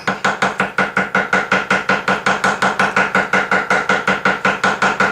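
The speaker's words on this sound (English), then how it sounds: "So I'm chopping these up." A knife chops soft falafel ingredients on a board in a steady, rapid rhythm of about five strokes per second, close and loud throughout, with no talk.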